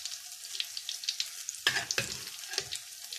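Thai fish cakes made from clown knifefish sizzle and crackle as they deep fry in hot oil, a dense steady hiss with bursts of popping, close up and without talk.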